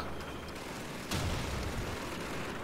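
A planted charge goes off in Call of Duty 2, a single sharp boom cutting through steady battlefield noise and leaving a short rumbling tail, moderately loud against the ongoing din.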